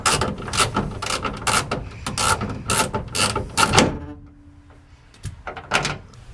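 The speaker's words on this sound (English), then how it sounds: "Now we can remove the regulator by removing these 4 bolts and snaking it out" A hand ratchet clicks through rapid bursts while the four bolts holding a car's rear window regulator are backed out, a loud close series of sharp ratcheting strokes that pauses, then resumes with a few fainter clicks.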